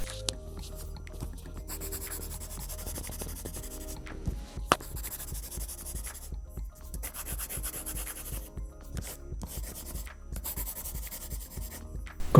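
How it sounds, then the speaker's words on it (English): A soft 6B pencil scratches across a paper-feel screen protector on a BOOX Note Air, close-up continuous rubbing strokes with short pauses between lines. "And now a bolder, blacker and therefore a quieter pencil."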